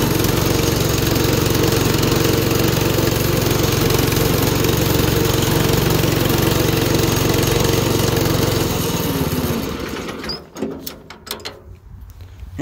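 A Predator 212 engine fitted to an Allis-Chalmers WD tractor runs with a loud, steady, close chugging drone, then stalls out at low throttle and sputters to a stop, followed by a few knocks and clanks.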